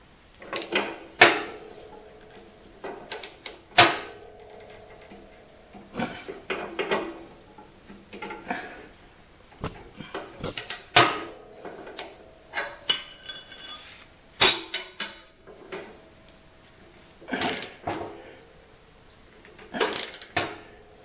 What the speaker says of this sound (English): Now I just need to tighten that up.